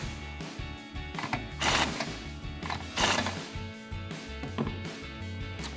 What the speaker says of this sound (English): Mine's kind of overlapping a little bit, so I'm going to tighten it a little more.